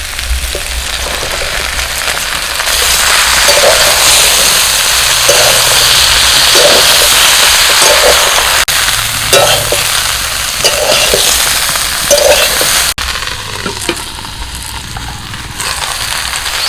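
Cabbage, eggplant and ghee hit a hot pan, producing a loud, dense, steady sizzle with rhythmic stirring knocks, easing off and turning quieter near the end.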